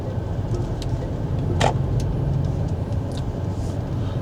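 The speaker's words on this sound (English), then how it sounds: "We'll take this car for a spin." A 2025 Chery Tiggo 7 Pro drives along with a steady low road and engine rumble heard from inside the cabin, a few brief clicks and a louder swell near the middle.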